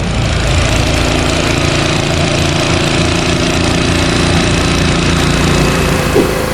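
A running Everbilt 5.5HP gas-powered utility water transfer pump engine drones loud and close, a constant steady hum with an even rumble and no pauses.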